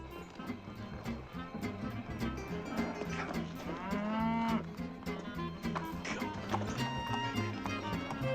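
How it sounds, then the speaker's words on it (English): A cow gives a drawn-out low moo that rises and bends in pitch, heard over an outdoor scene with hoof clops, scattered movement and some background talking. "I am not stealing a cow. This is my cow."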